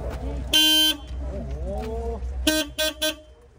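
A car horn blares once in a long blast, then gives three short toots near the end, with engine rumble and a voice underneath.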